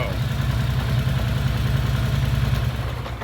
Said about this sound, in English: Starts way better, idling way better